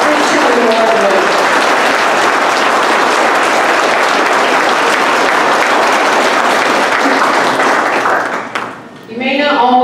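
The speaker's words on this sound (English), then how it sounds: "Ladies and gentlemen, please give a round of applause to our" Banquet audience applauding 2019 Woodmen Life Christian Award winners, a loud dense wash of many hands clapping that holds steady, then thins and fades near the end as a voice starts.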